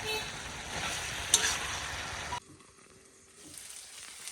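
Hilsa fish heads fry with taro greens in a pan and are stirred, giving a busy close sizzle with scraping that suddenly drops to a faint simmer partway through.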